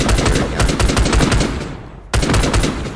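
An SPR-15 rifle in a Minecraft gun mod fires in rapid, evenly spaced shots, a long burst that stops and then resumes after a short pause, loud and close, with no talking.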